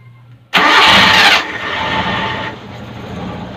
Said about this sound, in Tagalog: so ready na tayo guys mag start ng makina natin